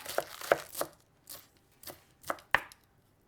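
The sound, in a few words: chopping leftover green onion bits with a knife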